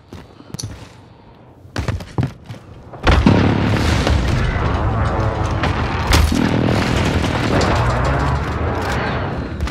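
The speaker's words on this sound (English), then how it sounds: "Enemy precision airstrike." Precision airstrike explosions in a video game, a few scattered booms followed by a heavy, sustained barrage of loud close blasts rumbling on without pause.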